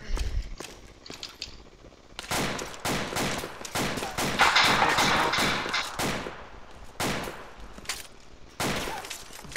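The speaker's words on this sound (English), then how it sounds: "I'm getting shot at somewhere across the street," Gunfire in the military shooter game Arma 2, during a city raid: bursts and rapid volleys of shots, some near and sharp, others sustained, in an irregular rhythm with short pauses between.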